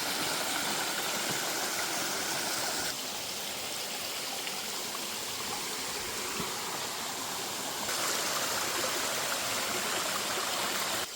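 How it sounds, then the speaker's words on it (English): A swollen rainforest stream, running fuller than usual along a walking track near a waterfall, gives a continuous, close rushing and gurgling roar that stays steady and loud throughout, with no talk. "Here at that Russian stream again. It's beautiful. It's a lot more watery today."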